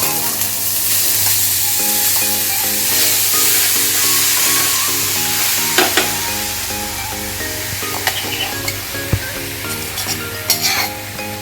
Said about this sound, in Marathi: साजूक तुपावर चांगला भाजून घ्यायचंय.